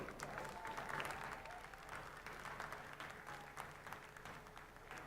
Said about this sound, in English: We can ask you to give the participants a hearty round of applause.